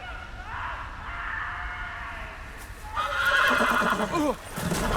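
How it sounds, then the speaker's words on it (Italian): A frightened horse neighs loudly in the Game of Thrones video game, a shrill rising whinny followed by a second harsher, louder burst, close and prominent with no talk over it. "Va bene il cavallo a spaventarsi,"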